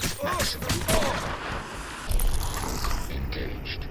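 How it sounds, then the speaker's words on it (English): FY-71 assault rifles firing on full auto during a Crysis firefight, rapid bursts of gunfire with mechanical clatter, strongest early and then a dense rattling mix continuing to the end. "they do just fire their FY-71s on full auto"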